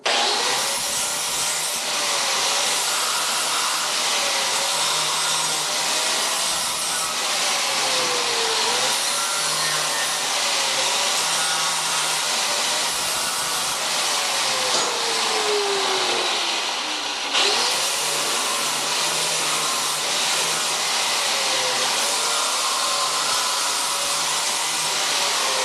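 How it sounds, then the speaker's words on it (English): A grinder works steadily on metal while a flatbed tailgate is being built, giving a loud, continuous whir with shifting pitch as it bites and eases on the piece, and no talking. "So we'll go ahead and grind this a little bit."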